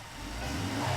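A car engine in the Sam and Max video game revs up briefly, the low growl climbing in pitch over about a second.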